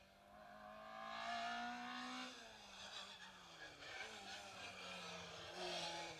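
A rally car runs down a long straight on a Mull rally stage, its engine note climbing through the gears and then dropping. The sound comes from a distance and stays faint, with no talk over it.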